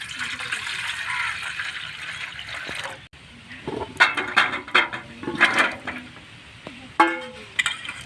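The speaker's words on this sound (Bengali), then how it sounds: "জল দিয়ে দেবো এই পাত্রের মধ্যে আমড়াগুলোকে ধোয়ার জন্য" Water pours and splashes into a bowl for washing hog plums, a steady stream at first, then a pause and a run of close, irregular sloshes and clinks.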